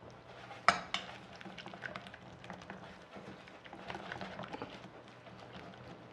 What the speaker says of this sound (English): Now just mix them up thoroughly.